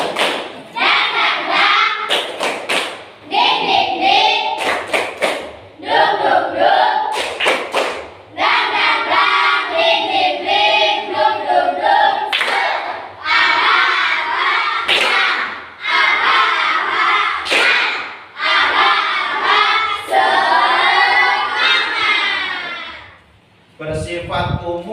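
An Indonesian classroom performs a spirit-clap icebreaker, with bursts of loud rhythmic group clapping alternating with chanted voices in repeated patterned phrases, close and energetic, ending in a sharp final clap.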